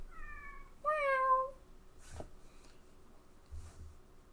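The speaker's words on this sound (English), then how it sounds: "Oh, it's a cat. Hello, cat." A cat meows twice in the video game Kentucky Route Zero, a short call followed by a longer rising meow, close and clear against a quiet background with a few soft clicks afterward.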